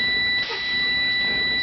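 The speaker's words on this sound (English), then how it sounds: "I just pump the brakes until my low air warning light and buzzer comes on." A truck's low air pressure warning buzzer sounds in the cab during a CDL air brake test as the brakes are pumped: a loud, continuous, steady electronic tone that holds for the whole moment, with a small dip in level early on.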